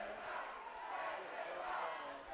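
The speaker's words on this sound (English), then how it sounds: "My ears are getting blasted with a big crowd here tonight." A big crowd roars in a college basketball gym during a Fort Lewis College versus Chadron State College men's game, a dense, steady wash of cheering that fills the whole stretch.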